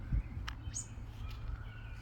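Several short bird chirps ring out over a steady low outdoor rumble, faint and somewhat distant, with brief gaps between calls.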